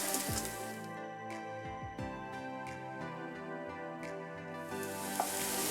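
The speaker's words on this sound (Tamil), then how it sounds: "ஃபுல்லாக இந்த மாதிரி நல்லா கொஞ்சம் ப்ரௌன் கலர் வர்ற வரைக்கும் இதை ஃப்ரை பண்ணிக்கோங்க" Taro root (seppankizhangu) pieces fry in hot oil in a pan, giving a steady, close sizzle with soft crackles and occasional stirring scrapes, no talk.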